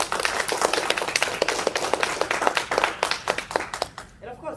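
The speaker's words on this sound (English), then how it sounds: "So I think our Sergeant-at-Arms deserves a round of applause" A round of clapping at a club meeting honours the Sergeant-at-Arms, a steady patter of hand claps throughout that thins out and fades near the end, mixed with voices talking.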